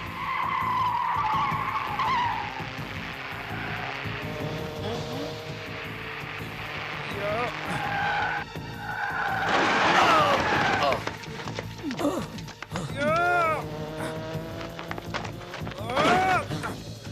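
A car skids sharply while turning around, tires squealing repeatedly over engine noise, with several rising screeches and a thump near the end; voices are heard in the mix.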